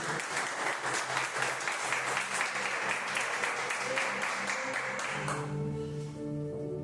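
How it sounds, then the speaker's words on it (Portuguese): A church congregation applauds, a steady wash of many hands clapping at moderate distance that carries on for several seconds before easing into quieter room sound. "E as palmas louvam ao Senhor."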